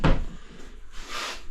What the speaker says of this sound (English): much movement in a sliding internal door